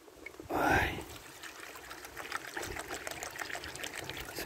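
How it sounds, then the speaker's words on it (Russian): Water is poured for cats indoors, starting with a brief louder splash and then a soft, steady trickle that goes on at close range under light background noise. "Сейчас водичку налью."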